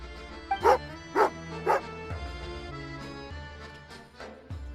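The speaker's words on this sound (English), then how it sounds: "Oh, angry doggy." A dog in the Genshin Impact game gives three loud, close barks in quick succession, followed by softer growling yips over a sustained musical background.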